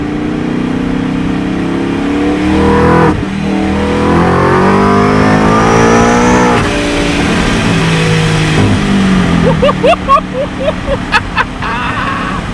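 A 2021+ Ford F-150 5.0 V8 pickup with an equal-length exhaust roars as it accelerates, the engine note climbing through gears, loud and close, with a voice briefly near the end.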